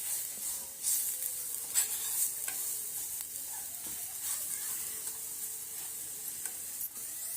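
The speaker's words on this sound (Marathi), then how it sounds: "थोडा बारीक गॅस करायचा आणि त्यावर ही चटणी अशी छानपैकी परतून घ्यायची" Crisp garlic chutney sautéing in a pan over a low flame, a soft, steady sizzle with light scraping stirs and occasional small pops, fairly quiet and continuous with no voices.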